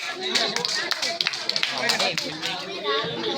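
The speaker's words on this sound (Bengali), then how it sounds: "ধন্যবাদ, করতালি।" Scattered hand claps from a small crowd, sharp uneven taps layered over voices and children chattering in the background.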